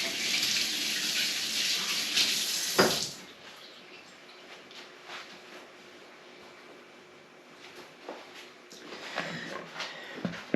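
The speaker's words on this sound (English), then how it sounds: "Quickly wash my hands." Tap water runs steadily into a kitchen sink as hands are quickly washed during pasta salad preparation, a loud broadband rush in the first three seconds that then drops to quieter splashing and intermittent water sounds, with no speech.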